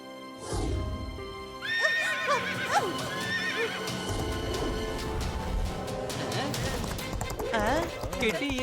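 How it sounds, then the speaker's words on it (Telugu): A cartoon horse neighs and whinnies repeatedly while hooves clip-clop at a gallop, joined by a background music score and a voice speaking over parts of the scene. "కిటి ఇంత బాగా గుర్రం స్వారీ చేస్తుంది చూడు"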